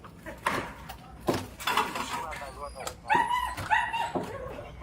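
A dog barks and whimpers in short, anxious yips and whines close by. People are talking over it, and the sound comes through a cluttered background.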